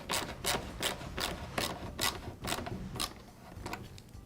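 A clamp is re-tightened on the flexible tube of a Shindaiwa backpack blower: a quick series of about nine rasping, ratchet-like strokes, close and fairly quiet, with no talking.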